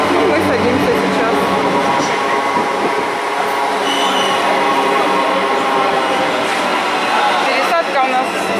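A Marmaray commuter train pulls into a station in Istanbul with a loud, continuous rolling rumble and faint high wheel squeals. Muffled voices sit beneath the noise.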